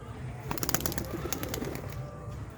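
Fancy pigeons shown by a breeder make faint, close coos and rustles, with a few sharp clicks and light flutters scattered through, and no clear talking.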